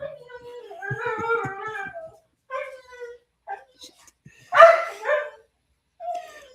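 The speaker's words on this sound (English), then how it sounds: "Oh, the dog's gonna go crazy." A dog barks and whimpers in short yipping bursts, loud and close, with a few separate barks spaced over several seconds and quiet gaps between them.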